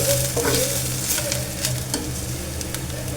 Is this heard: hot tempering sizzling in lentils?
yes